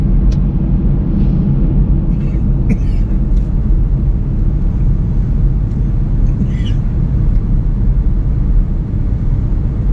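A small car driving along a road, heard from inside as a constant loud low rumble of road and engine noise, with faint voices talking in the cabin.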